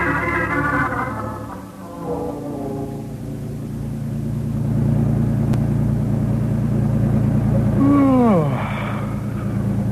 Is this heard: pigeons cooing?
no